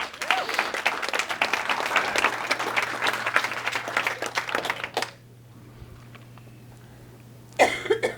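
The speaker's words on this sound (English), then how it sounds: "Give them a big round of applause." An audience bursts into loud, sustained applause for about five seconds, then the room drops to a low hum before a brief second burst of clapping near the end.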